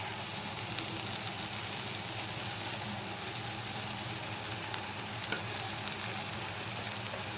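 Cooked rice for mango rice being stirred and fried in a pan, a steady broadband sizzle with soft scraping running evenly throughout, close and moderately loud, with no talking.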